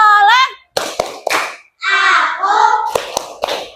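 Classroom of children doing a rhythmic cheer clap during an Indonesian micro-teaching lesson, sharp clustered hand claps in a set pattern alternating with loud chanted voices, close and lively.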